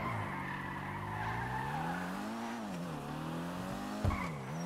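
Car engine in GTA roleplay driving with a turbo blow-off flutter, steady engine drone with shifting pitch and a brief loud burst near the end, no talking.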